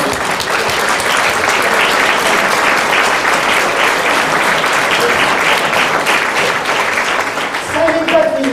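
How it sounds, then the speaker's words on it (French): A Téléthon audience gives an ovation: loud, dense, steady applause from a large crowd fills the whole stretch, with a brief voice surfacing near the end. "Ovation pour moi"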